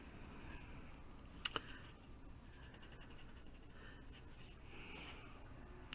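Graphite pencil shading on paper, a faint, steady rubbing scratch with a couple of sharp taps early on, quiet and close with no voices.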